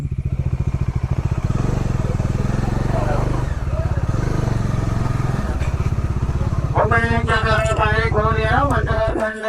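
A motorcycle engine chugs steadily close to the mic as the bike pulls in to park, with a brief tonal, warbling sound rising over the engine near the end.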